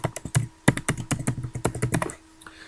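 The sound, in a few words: typing on a computer keyboard to rename a file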